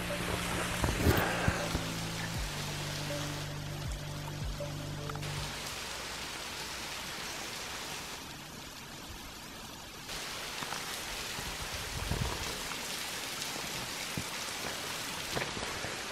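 Naridum Falls on the Warrie Circuit in Queensland, with only a little water flowing, gives a soft, steady splashing hiss like light rain. The sound is faint and continuous and is heard alone.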